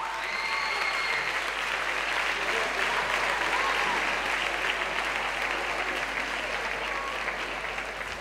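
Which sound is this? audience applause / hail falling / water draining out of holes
audience applause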